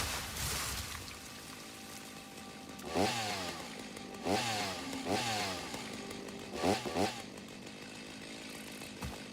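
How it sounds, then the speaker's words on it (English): A chainsaw revs outside in short bursts, three or four rising-and-falling pulls at a moderate distance over steady background noise. "a similar revving sound outside of like a chainsaw"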